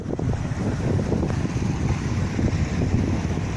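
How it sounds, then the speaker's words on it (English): Steady wind rushes across an outdoor microphone on a rainy Friday afternoon, a continuous broadband roar with gusty low rumble throughout and no talking. "Ooh, that wind, that breeze feels so awesome"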